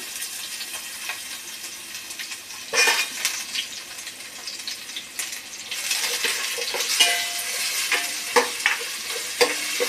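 Ginger sizzles in hot oil in a pan while tomato pickle is being made, a steady crackling hiss broken by louder bursts and scraping as it is stirred, with no one talking.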